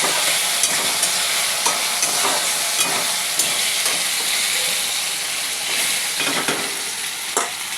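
Fish curry spices with green chilli, black cumin, salt, sugar and turmeric fry in a pan, a steady loud sizzle running throughout with repeated sharp scrapes and knocks of a spoon stirring.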